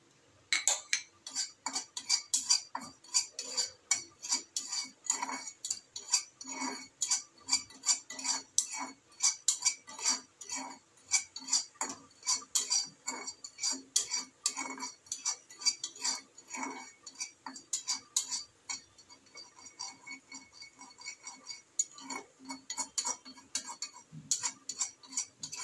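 A spatula clinks and taps against a wok as nigella seeds fry for ghatkol bata, giving quick metallic ticks in irregular bursts, fairly close, with no speech.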